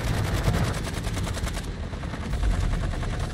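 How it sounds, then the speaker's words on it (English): Rapid automatic gunfire in the Call of Duty: Modern Warfare III Shadow Siege event, a dense steady burst of evenly spaced shots that cuts off partway, leaving heavy rumbling battle noise and a helicopter-like drone, loud and close with no voices. "Who are they shooting at?"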